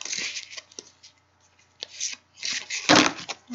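Angel oracle cards shuffled by hand in a few short bursts of papery riffling and tapping, fairly close and moderately loud, with quiet gaps between the bursts and a sharper flurry near the end.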